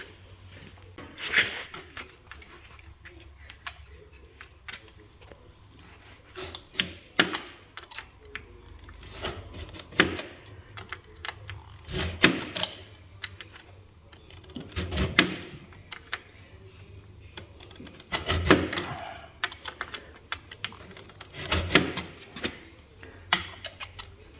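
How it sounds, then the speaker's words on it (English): A utility knife scores and cuts thin aluminum sheet along a straight edge, heard as a series of sharp scraping strokes and clicks at irregular intervals, close and moderately loud over a low steady hum. "we're going to use a straight edge and a knife instead of tin snips"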